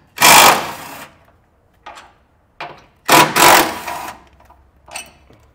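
A power tool whirs in short bursts while removing two 13mm head bolts from a bracket holding brake lines under a 2024 Chevrolet truck, with two longer loud runs and several brief quieter blips, close by, no talking.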